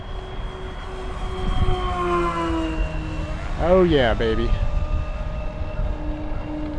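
A twin-motor FMS F7F Tigercat 1700mm RC model airplane with 550KV motors, a loud whining drone that rises and falls as it passes close, the pitch swooping sharply during a low pass, with a man exclaiming over it.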